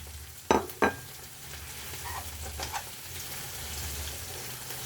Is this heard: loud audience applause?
no